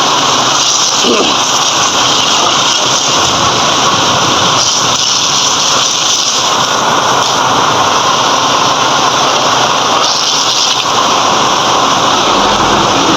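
Heavy rain pours down in Malaysia, a steady dense roar of water spread evenly across the whole stretch, loud and close with no let-up.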